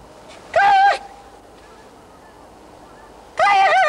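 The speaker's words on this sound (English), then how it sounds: "Two of them, two geese under the sun." Two loud bursts of goose honking on a marsh, each lasting about half a second, separated by a quiet gap with faint background hiss.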